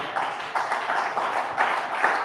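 A church congregation gives a short burst of applause during a sermon: a dense, continuous wash of clapping that swells in waves and stays fairly loud throughout.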